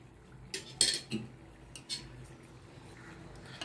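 Mawa gujiya are lifted one by one out of sugar syrup, giving a few light clinks and scrapes of a metal spoon against a pan, sparse and close, with quiet gaps between the touches.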